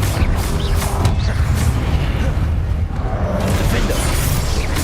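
The Confringo blasting spell in Hogwarts Legacy bursts amid dense, continuous game combat noise, with booming impacts under shouted voices.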